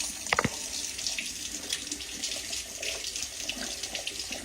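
A kitchen tap runs steadily into a sink while pork neckbones are rinsed under it, producing a continuous close rush of water with a few clunks near the start.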